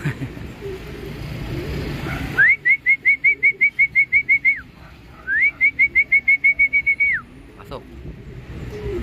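Racing pigeons come in to land on a roof during training while a person whistles two long runs of rapid, evenly pulsed notes. Soft background noise and a few low sounds fill the rest, with no clear speech.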